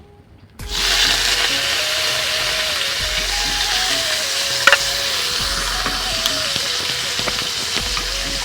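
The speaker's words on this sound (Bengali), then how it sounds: "আর প্রথমে আমি কড়াতে তেল দিয়ে দিচ্ছি আর এই উচ্ছাগুলো এখন উঠিয়ে দিচ্ছি" Bitter gourd pieces drop into hot oil in a wok and start frying with a sudden loud sizzle that settles into steady, close, crackling bubbling, with a few faint clinks and no voices.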